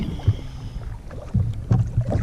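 Kayak paddles dipping into water on an outing, a few soft splashing strokes spaced irregularly over light wind and water noise, fairly close.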